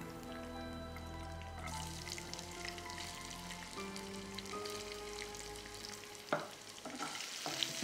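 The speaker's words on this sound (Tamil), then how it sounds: "இந்த எண்ணெயில் வந்து நம்ம கொஞ்சமாக இஞ்சியும் பூண்டும் ஆட் பண்ணிக்கலாம்" Ginger and garlic sizzle and crackle in hot oil, a steady frying hiss with occasional stirring scrapes and a low background hum.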